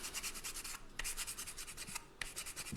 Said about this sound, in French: un coup de papier ponce